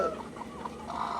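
Desi hen clucking nearby, a short soft run of throaty clucks over low background noise.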